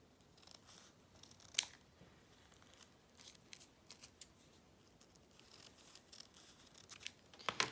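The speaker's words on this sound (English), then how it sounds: "Now I am going to fold this and cut the edges." Scissors snip through the edges of folded craft paper, a few sharp, quiet cuts spread across a hushed room with a crisp crunch near the end.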